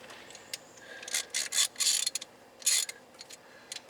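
A ratchet wrench clicks in short bursts while working on a 2012 Subaru Outback 2.5L steering rack repair, close and moderately quiet, with pauses between strokes and no talk.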